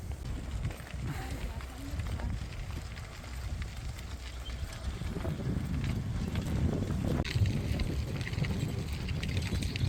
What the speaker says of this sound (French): Il y a énormément de vent aujourd'hui, c'est assez fou.